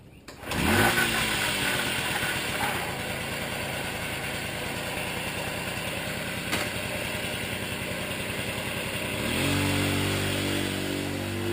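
A Kinetic TFR moped engine runs steadily after a brief start, its even buzzing idle carrying a mechanical whir from the regular transmission, close and loud, with the pitch rising slightly near the end.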